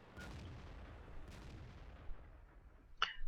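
Tank gun fire in World of Tanks: one heavy boom near the start that decays into a long rumbling tail, a fainter second shot soon after, and a sharp crack near the end, all fairly quiet.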